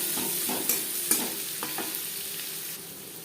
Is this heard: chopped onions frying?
yes